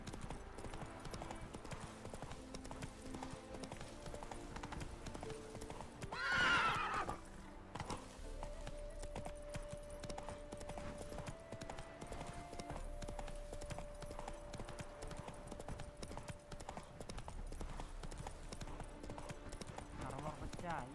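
Horse hooves clip-clopping at a steady gallop in The Witcher 3, a continuous rhythmic patter throughout with a brief whinny partway in, under game music and occasional spoken dialogue.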